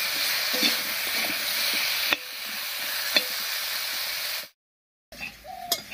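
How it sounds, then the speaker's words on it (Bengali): Potatoes with turmeric sizzle steadily in a hot pan with occasional clinks of a stirring spoon, then a brief silence before the sizzling resumes more faintly. "এবারে খুব ভালো করে মিশিয়ে নিয়ে একটু ভাজা ভাজা মতো হতে দেবো।"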